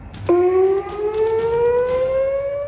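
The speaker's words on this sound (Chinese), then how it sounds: "You can obviously hear the sirens." An air raid siren wails over Jerusalem during a drone attack, a loud sustained tone that starts abruptly and slowly rises in pitch, continuous and alone with faint background noise.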